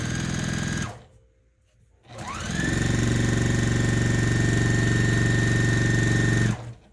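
A sewing machine stitches layer cake quilt blocks together in two runs: a short burst, a brief pause, then a long steady whir of the motor and needle that stops abruptly near the end, with no talking.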